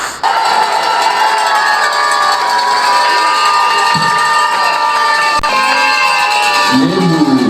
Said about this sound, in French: Nous voulons que nous l'accueillions avec les acclamations, les sifflets et des pas de danse.